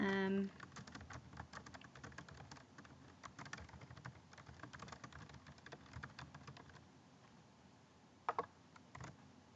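Rapid, close typing on a computer keyboard, a steady patter of key clicks that runs throughout with a couple of louder strikes near the end.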